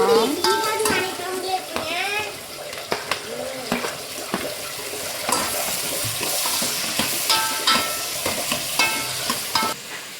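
Tomatoes going into a hot home-kitchen pan and frying, with a steady crackling sizzle, stirring scrapes and light clatter throughout, while a voice speaks briefly near the start.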